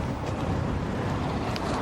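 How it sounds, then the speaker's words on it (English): Strong, steady wind buffets an outdoor microphone along the Granton shore, a continuous low roar with no break and no voices. "The wind's really strong, isn't it? It's really windy"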